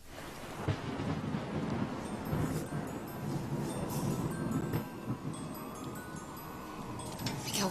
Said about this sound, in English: why is it thundering this time of year?